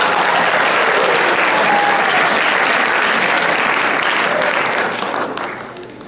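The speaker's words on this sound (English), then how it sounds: "Give them a round of applause." School talent show audience bursting into loud sustained applause for the next act, a thick close wall of clapping that holds steady and then tapers off near the end.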